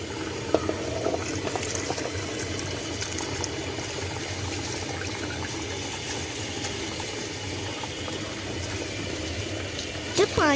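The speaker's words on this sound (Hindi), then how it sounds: "पानी उबल जाए तब चावल डाल दें।" Water boiling in a cooking pot while making chickpea rice pulao, a steady bubbling hiss that runs the whole time at moderate level, with faint background noise and a few brief clinks near the end.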